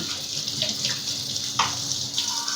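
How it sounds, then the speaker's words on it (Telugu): A cooking pot is washed under a running kitchen tap, with a steady rush of water and small clanks and splashes as the vessel is handled close by. "ఒకసారి గిన్నె వాష్ చేసేసుకుని"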